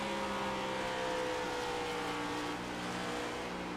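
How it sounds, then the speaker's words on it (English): Race car engine in a racing video game, droning steadily at high revs with tonal whine and brief shifts in pitch as gears change, loud and continuous without talk. "You can hear him shifting. Keep those RPMs up."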